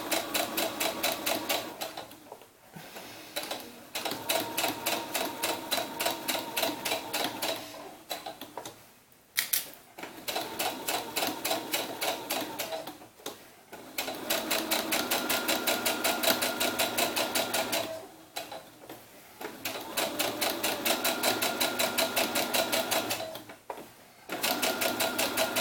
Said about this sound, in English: I'm going to keep my needle in the middle, and I'm going to sew right along the bottom.